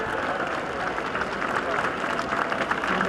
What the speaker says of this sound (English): And applause from the assembled crowd around this circular winners' enclosure.